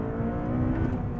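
Honda Civic Type R with a rebuilt engine and new internals, 240 horsepower, revving steadily in a brief, close burst of layered engine tone.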